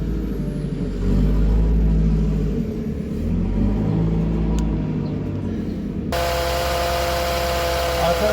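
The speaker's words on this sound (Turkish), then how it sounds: "Şimdi bir marş yapacağım." A Renault Clio 4 engine is cranked over during a gearbox oil change, a low rumbling churn that runs for several seconds before shifting into a steadier, tonal engine note near the end.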